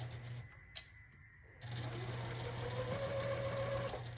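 A sewing machine runs a quarter-inch quilt seam for a quilted scarecrow block, a short burst, a brief pause with a small click, then a longer steady whir, close and moderate.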